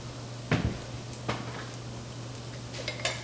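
A plate and spatula are picked up in a home kitchen while cooking Italian stuffed chicken breast, giving a few faint, separate clinks over a low steady hum.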